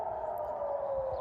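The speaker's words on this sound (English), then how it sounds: "a siren is going off right now" A steady wailing air raid siren holds one pitch throughout, loud and continuous, with faint background rumble and no talking.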